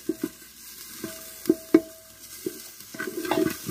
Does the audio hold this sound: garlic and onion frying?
yes